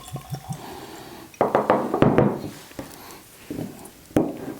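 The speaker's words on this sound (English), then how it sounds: "And let's get a nice pour." Belle Meade cask strength bourbon poured from a freshly uncorked bottle into a glass, with a few light clinks followed by a short splashing pour of liquid and a brief trickle at the end, close and fairly quiet.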